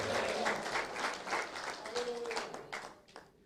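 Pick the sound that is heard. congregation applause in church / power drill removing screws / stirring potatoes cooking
congregation applause in church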